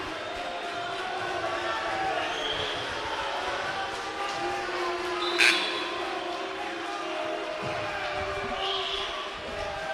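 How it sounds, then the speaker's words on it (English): Crowd noise fills a high school boys' basketball gym, a steady roar of voices with scattered shouts and a sharp squeak or whistle near the middle, heard under a commentator's continuous talk. "there's a lot of crowd noise going on right now"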